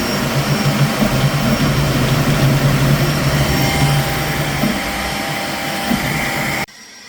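A Creality K1 3D printer runs a multicolour print with a loud, constant fan-driven whoosh and motor hum that cuts off abruptly near the end.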